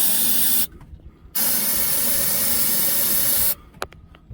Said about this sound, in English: I'm going to fill that up with carburetor cleaner if I can get it in there.